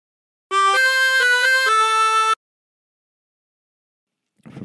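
Tremolo harmonica with 20 holes plays a short phrase, a run of sustained reedy blown and drawn notes lasting about two seconds, then silence with a faint noise at the end.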